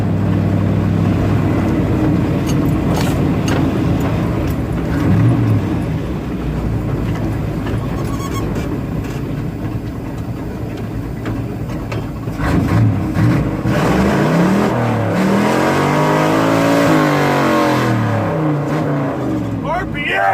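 A 62-year-old carbureted car engine roars and revs repeatedly, rising and falling in pitch, with people shouting and talking over it.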